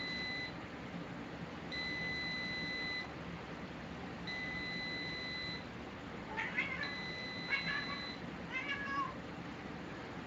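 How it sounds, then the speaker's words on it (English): An air fryer's electronic beeps sound in repeated steady tones, followed by a house cat meowing loudly and insistently several times nearby, the meows overlapping the last beeps. "Cat's going crazy because it was beeping."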